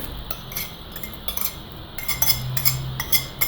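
A metal spoon clinks against a pot while stirring boiled wheat into a cold ayran yogurt soup, Sivas katıklı çorba, giving quick, irregular bright taps and scrapes up close.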